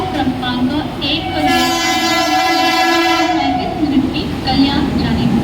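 A Mumbai local train pulls into a railway station platform, its loud horn sounding in long tonal blasts over the rumble and clatter of the carriages close by.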